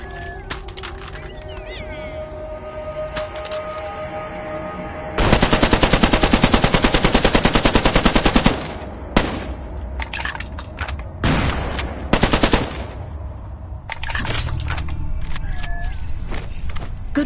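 Rapid automatic gunfire in the VR shooter Killing Floor Incursion, a loud sustained burst followed by shorter bursts and single shots against a constant background hum.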